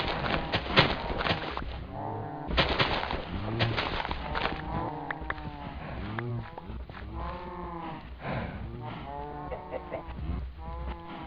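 Minecraft cows moo repeatedly in a pen, several overlapping drawn-out lowing calls following one another closely, fairly loud and with no talking.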